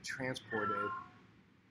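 A house cat meows twice in quick succession, a short call and then a longer drawn-out one, close to the microphone, with a person talking alongside.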